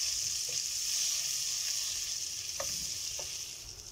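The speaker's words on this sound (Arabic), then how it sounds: "سيبهم بقى لحد ما يسيحوا مع بعض خالص، زبدة أو سمنة أو أي مادة دهنية أنت تفضلي." Butter or ghee melts with oil in a pot for lentil soup, giving a steady, soft sizzle close by with a few faint clicks of a utensil and no talk.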